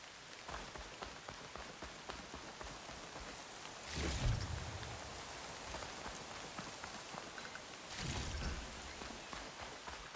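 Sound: rain pouring down in the video game Horizon Forbidden West

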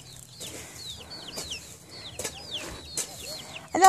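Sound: chickens clucking

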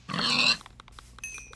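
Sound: pig in video game Minecraft

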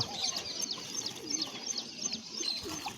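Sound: pigeons cooing

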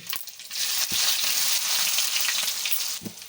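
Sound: onion paste, ginger garlic and chillies frying in oil

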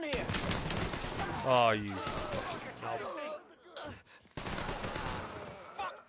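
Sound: gunfire in Mafia 3 video game

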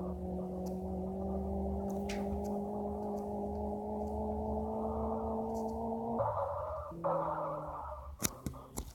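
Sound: car peeling off, accelerating away

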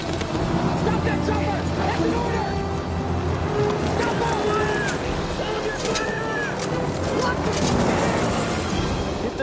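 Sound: helicopter taking off with troops

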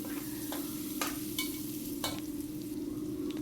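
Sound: onions frying in a pan

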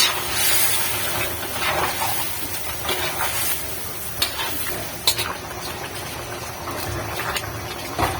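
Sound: stirring softened jackfruit frying in a pan

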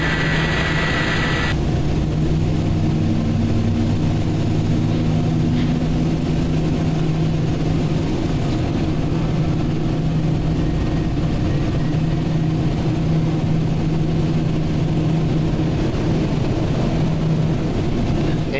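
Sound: airliner jet engine starting, FSX flight simulator video game

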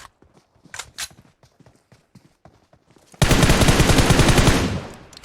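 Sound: footsteps in PUBG Mobile video game

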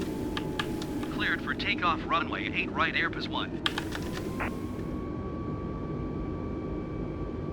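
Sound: airplane taking off in Microsoft Flight Simulator video game

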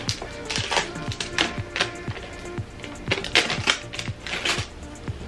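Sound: peeling plastic wrap off a purse buckle

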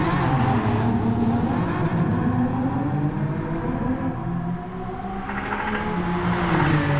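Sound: Aston Martin Vulcan V12 engine revving in GT Sport video game

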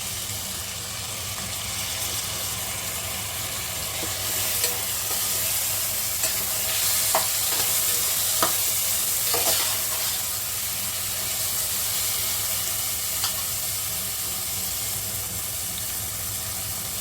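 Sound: frying ginger garlic paste, potatoes and lentils

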